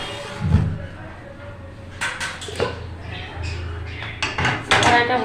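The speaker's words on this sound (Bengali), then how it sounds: "কড়াইটা বসিয়ে দিলাম।" Metal clanks as a wok is set on the stove, with a few sharp knocks and clatters of pans and utensils spread over several seconds, under a voice.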